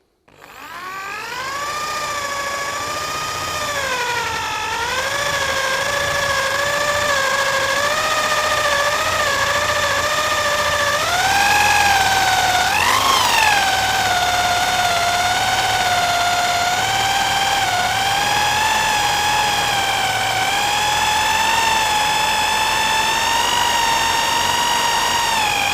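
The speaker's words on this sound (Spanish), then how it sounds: "con mucho tiento y empezamos a taladrar" A sustained motor whine of an electric drill boring steadily into wood, its pitch rising and dipping under load, loud and close with no voices.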